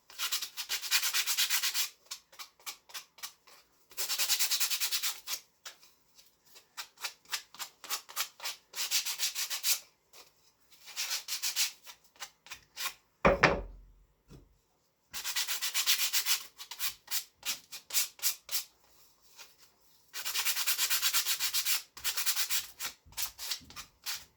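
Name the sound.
hand sanding wood with 60 grit sandpaper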